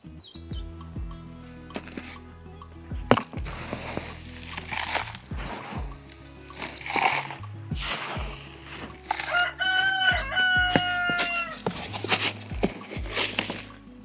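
A rooster crows repeatedly in a backyard garden, loud and close, its calls rising and falling over about fourteen seconds with shorter clucks and chirps between them.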